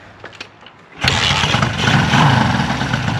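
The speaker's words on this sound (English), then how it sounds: "I bet you can't start it with the Kickstarter" A Honda CB550 motorcycle engine catches on a single kick, a few faint knocks giving way at once to a loud, steady running rumble close by.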